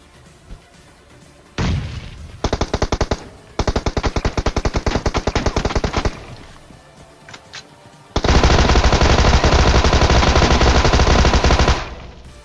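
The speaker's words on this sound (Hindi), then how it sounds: "उसे मारना था भाई मुझे टॉमी गन से, क्योंकि टॉमी गन भी यूज़ करनी है" A Tommy gun fires in a video game in loud, rapid automatic bursts: a short burst, then two longer strings of shots, then a sustained volley lasting several seconds.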